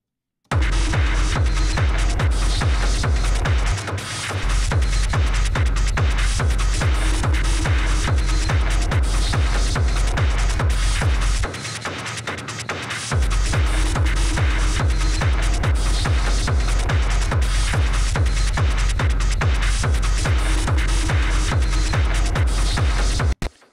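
Industrial techno kick drum pounding in a fast, steady four-on-the-floor pulse with a dense rhythm section mix, loud and continuous, briefly thinning out at two breaks.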